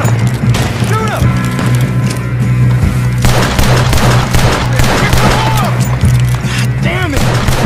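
Gunfire in a Red Dead Redemption 2 shootout, with rapid shots and booms layered over a loud, dense battle bed, while voices shout over the action.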